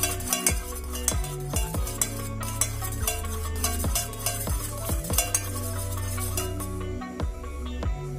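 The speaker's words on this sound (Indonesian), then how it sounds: "Kemudian ini bisa kita aduk kembali ya" A spoon stirs iced coffee in a cup, giving a run of bright clinks and scrapes against ice and the cup wall in an uneven rhythm, close and clear with no talking.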